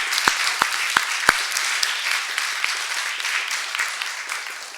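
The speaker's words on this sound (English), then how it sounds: "Let's give them a round of applause." Conference audience in a university faculty club applauds, starting with a few sharp, distinct claps that swell into sustained, moderately loud clapping from the room.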